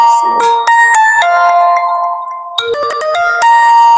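A melodic electronic ringtone plays loudly, a short tune of bright sustained tones that pauses briefly and then repeats.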